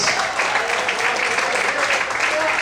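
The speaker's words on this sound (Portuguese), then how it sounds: "Se você crê, aplaude o Senhor e glorifica a Deus muito forte." Congregation in a church service applauding, a loud steady burst of many hands clapping with voices mingled in, lasting a few seconds.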